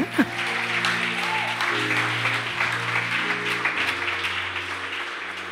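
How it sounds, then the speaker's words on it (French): An audience in a church applauds steadily and warmly, a dense wash of clapping that holds for several seconds over sustained organ or keyboard chords. "Est-ce qu'on peut acclamer pour la parole?"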